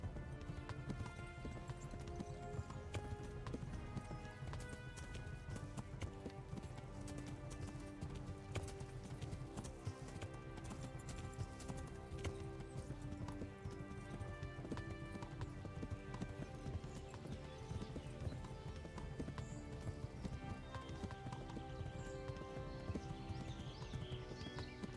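Horse hooves gallop in steady rapid clip-clop in the video game Kingdom Come: Deliverance, a continuous drumming of hoofbeats with occasional whinnies, layered over game music and ambience for the whole stretch.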